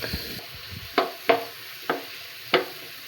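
Tomatoes cook down in a pan with a low, faint sizzle, broken by a handful of distinct scraping stirs at uneven intervals.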